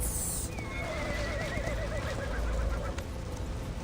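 A black horse whinnies loudly in a wavering neigh over steady hoofbeats and a rushing wind-like background, close and continuous.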